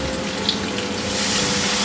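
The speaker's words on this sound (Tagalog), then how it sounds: "Butangan ta sang tubig." Water poured into a cooking pot for lechon paksiw, a steady close gushing splash filling the pot for under two seconds with no talk.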